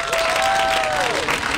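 A live theatre audience gives a brief, continuous round of applause, with a voice rising over the clapping.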